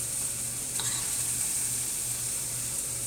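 A ham and cheese omelette sizzles steadily in a pan with the heat turned off, a soft, even frying hiss with a faint stirring scrape near the start and no talking.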